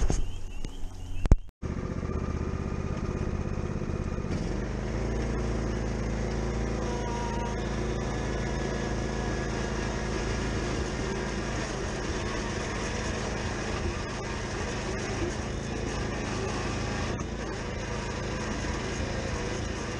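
Lawn tractor engine running steadily while towing a Brinly tow-behind lawn roller across a lawn, a continuous close drone with a brief cut near the start, no talk.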